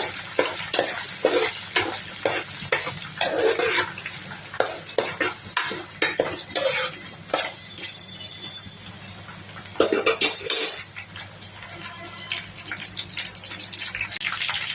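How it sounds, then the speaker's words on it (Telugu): Vigorous stirring of fish curry in a hot pan, a run of quick scraping strokes over constant sizzling, close up, easing off toward the end. "గట్టిగా కలుపుకోవాలి."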